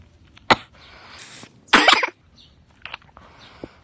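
Several sharp coughs from a person sick with chills, joint pain and chest heaviness, one at the start and a louder harsh burst midway, with fainter coughs or throat noises after, in a quiet room.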